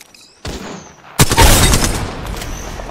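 A frag grenade explodes in Apex Legends with a sharp, loud close blast and a rumbling tail, after a softer thud and faint gunfire.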